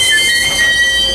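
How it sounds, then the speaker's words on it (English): Train wheels squeal on the rails at Fullerton Station, a loud, steady, high metallic screech from a passing train heard close and alone. "Oh, not again on the squeaky rails."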